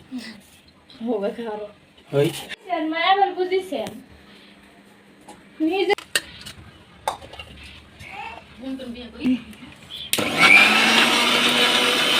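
An electric grinder whirs loudly near the end as garam masala spices are ground, a steady roaring spin that comes after a stretch of speech and a few clinks of dishes.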